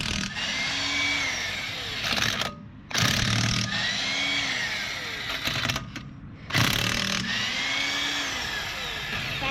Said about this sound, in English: And now we're gonna remove the wheel.